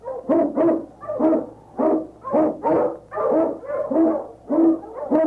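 An Eskimo lead dog barks in a Yukon sled-trail radio drama, sharp barks repeating in a steady rhythm, about a dozen in five seconds, close and loud with no talk over them.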